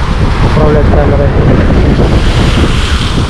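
Sea waves washing onto a beach at Lazarevskoye, a constant heavy roar of surf mixed with strong wind buffeting the microphone, loud and close, with a voice faintly audible under the noise.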